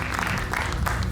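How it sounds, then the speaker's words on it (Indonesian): A studio audience at an Indonesian television talk show applauds, a brief, dense burst of many hands clapping at a steady, moderate level. "Kita berikan tepuk tangan Bung Pitra."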